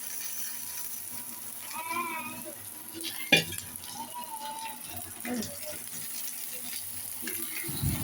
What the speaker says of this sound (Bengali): এখন আমি ভেজে রাখা আলু, পটল, কাঁকড় গুলা দিয়ে দিতেছি আর কি